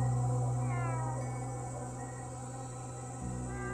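A cat gives a faint drawn-out meow with a rising and falling pitch, then a brief softer call near the end, over a steady background hum at night.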